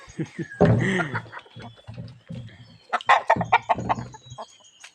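Several chickens cluck in bursts close by while feeding greedily, with busy scratching and pecking noises between the calls, on a mountain farm.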